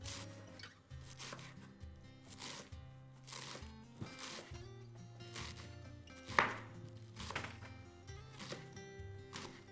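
Fresh garlic being chopped with a knife on a board, a steady run of crisp, close blade strikes in an uneven rhythm, one sharper knock standing out near the end, with no talking.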